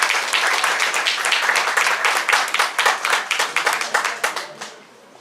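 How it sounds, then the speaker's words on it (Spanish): Audience applause welcoming a speaker at a talk on the Reglamento Provisorio: a loud run of distinct, rhythmic claps from a room full of hands, holding strong before tapering off and fading out at the end. "Lo recibimos con un fuerte aplauso."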